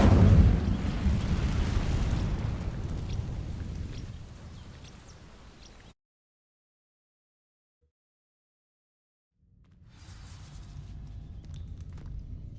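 The Incendio fire spell in Hogwarts Legacy ignites dry vines with a loud, booming whoosh that roars and slowly fades, followed by silence before quieter game ambience returns.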